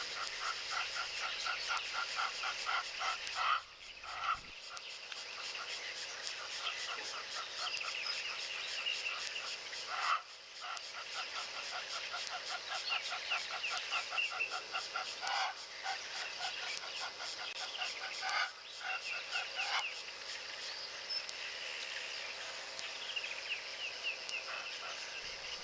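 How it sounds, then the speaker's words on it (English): Egyptian geese call noisily outdoors in the wild, a continuous chorus of harsh, honking and rasping cries layered over one another, loud and steady throughout with a few brief dips. "Jeez, these Egyptian geese are noisy as always."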